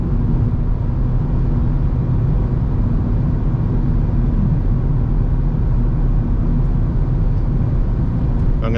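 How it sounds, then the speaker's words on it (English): A 190-horsepower Mazda RX8 engine drones steadily from inside the moving car with a window partly open, a loud continuous rumble of engine and road noise with no clear rise or fall. "that'll be my last rev out in a Mazda RX8, 190 horsepower"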